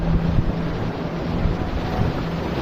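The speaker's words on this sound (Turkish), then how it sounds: "şurada dalgalar var ve sağa sola çarpıp gidiyoruz şu anda" A boat crosses choppy sea with wind buffeting the microphone and water churning steadily, rough and continuous throughout, no speech.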